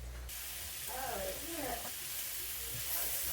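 Onions frying in a pan for a gluten-free lasagna make a soft, continuous sizzle and hiss, with a few faint scraping stirs partway through.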